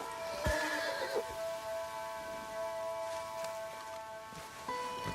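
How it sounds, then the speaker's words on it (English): A horse in the video game Red Dead Redemption 2 gives a sharp whinny near the start, with hoof clip-clops and a steady tonal game background drone beneath, then quieter shuffling. "Need to get that horse under control."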